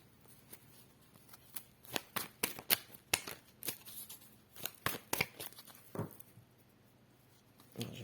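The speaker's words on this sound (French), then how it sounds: "Je vais remélanger correctement." Cards shuffled by hand for a reading, a quick series of crisp riffling snaps and slides at close range, coming in irregular clusters with quiet gaps between.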